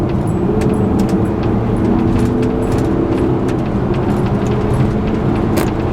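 A car pulls hard out of town onto an open road, its engine note rising steadily as it accelerates, loud and continuous with road and wind noise throughout.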